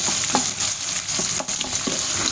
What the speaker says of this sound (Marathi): आपण एक छान मंद परतवून घ्यायचं